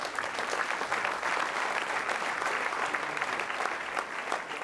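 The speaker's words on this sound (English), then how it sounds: "Ladies and gentlemen, a big round of applause to your community builders." An audience at an awards ceremony applauds, a dense and steady wash of clapping from a sizable crowd that holds throughout.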